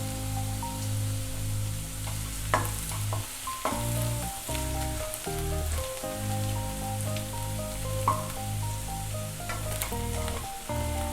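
Garlic fries in hot oil over high heat for fried rice, sizzling and crackling steadily up close with small pops, a soft music bed underneath and no voice.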